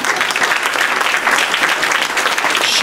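A large audience claps continuously at a Shiv Puran religious discourse, a loud, dense, sustained wash of applause with no gaps.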